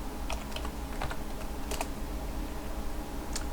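Keys clatter on a computer keyboard while a sudo UFW status command is entered for a firewall check on Linux Mint 13, with scattered close clicks over a steady low hum and no talk.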